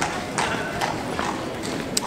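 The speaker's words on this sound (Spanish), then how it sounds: "Así cerramos el video con un caballo que más me atropella." A horse's hooves clip-clop on a street in Bruges, Belgium, a close, steady trotting rhythm with a person talking over it.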